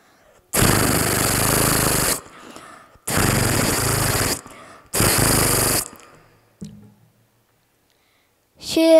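On a TV talent show grand finale stage, a voice imitates a Thompson gun firing, with three loud, sustained rattling bursts separated by short pauses, followed by a brief quieter sound.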